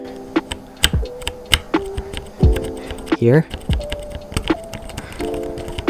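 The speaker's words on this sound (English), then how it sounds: "that's a little bit of like springiness that's going on inside of the keyboard" Logitech G613 mechanical keyboard keys clack in an irregular stream of sharp presses, close up, with a faint springy ring after some strokes and occasional talk underneath.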